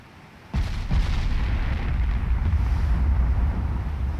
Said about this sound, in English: Ranging shots.